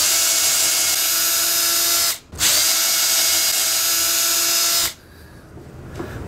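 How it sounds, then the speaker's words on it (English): A power drill bores dowel holes through a Dowel Wizard jig clamped to wood, a loud, steady high whine running for about two seconds, a brief pause, then another long burst before spinning down. "line up my tick marks, clamp it in place, drill my holes"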